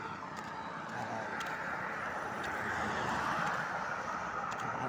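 Steady, dense roar of passing traffic on a highway in Lubao, heard close from the roadside as a continuous wash of engines and tires, with no voices.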